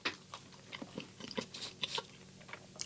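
Someone bites and chews a crunchy-crusted cinnamon bun with apple from a Kamloops bakery, giving a quick run of small crisp crunches and moist chewing sounds up close, with no talking.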